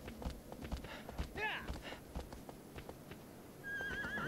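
A horse in Shadow of the Colossus trots with steady hoof clops and lets out a brief whinny. A faint game soundscape runs underneath.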